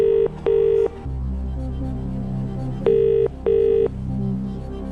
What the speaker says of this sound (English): we'll phone him